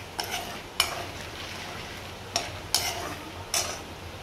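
Lentils and peanuts frying in shallow oil in a home kitchen are stirred with a spoon: about five sharp scraping strokes at irregular intervals over a faint, steady sizzle, close and moderately quiet.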